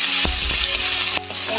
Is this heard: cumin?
yes